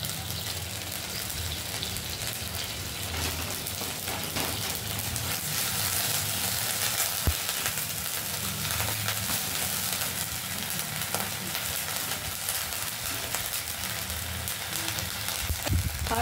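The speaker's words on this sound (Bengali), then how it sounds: "গ্রেট করা পেঁয়াজটা প্রায় ফ্রাই হয়ে গেছে, কালার চেঞ্জ হতে শুরু করেছে।" Grated onion frying in a pan, nearly done and starting to change colour, giving a steady, even sizzle throughout with a few faint clicks and no talk.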